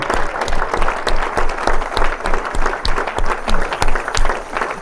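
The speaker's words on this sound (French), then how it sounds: "Est-ce qu'on peut donner une bonne main d'applaudissement au Seigneur?" A lively church congregation applauds steadily, dense clapping filling the space with rhythmic swells, no voices standing out.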